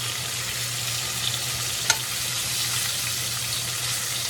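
Quail with caramelized apples and rose geranium frying in a pan, a steady broadband sizzle held close and even throughout, with one brief tap of a utensil partway through and no voices.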